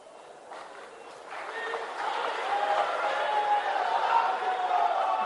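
Applause from the crowd at Nitish Kumar's oath ceremony as Bihar chief minister for the ninth time: a dense wash of clapping that swells after the first second and holds steady, with faint voices mixed in.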